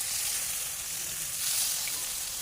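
Masala-coated river fish frying on a dosa griddle with little oil, a steady close hiss of sizzling that holds evenly without breaks.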